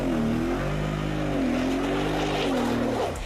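A Mercedes G63 with all differentials locked runs at full throttle up a hill, its engine a loud, sustained roar with pitch wavering up and down as the wheels slip, fading slightly at the end.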